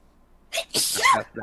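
A single sharp sneeze bursts out close by, followed by a brief voice murmuring afterward.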